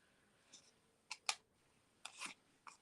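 A few faint, crisp snips of scissors cutting paper, spaced irregularly in a quiet room.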